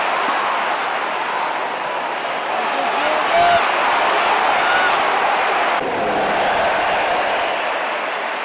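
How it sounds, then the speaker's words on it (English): A video game football crowd in a stadium applauding and cheering, a dense, steady roar of clapping and voices at high level that swells slightly partway through, with a commentator speaking over it. "the crowd show their appreciation for his performance"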